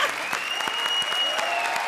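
A studio audience on a comedy show claps loudly for a brief burst, with sharp individual claps standing out over the massed applause and a faint steady tone running beneath.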